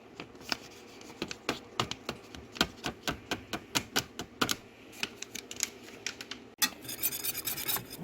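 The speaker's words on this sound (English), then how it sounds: "Whisking this all together." A whisk beats soy milk, water and a packaged mix together in a bowl, giving quick, irregular clicking taps for several seconds before the strokes blur into a denser swishing.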